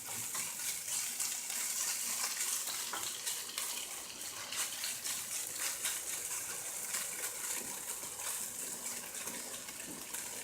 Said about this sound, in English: Starting to look good, getting a little toasty here, searing it up.